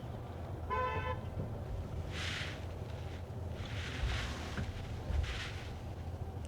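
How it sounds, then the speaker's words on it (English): Car horn honking from a vehicle behind in dense city traffic in China, a short stuttering run of toots early on, mid-distance over steady road rumble and engine noise. "the car behind us is horning a lot"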